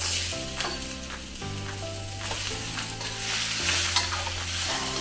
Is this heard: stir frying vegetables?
yes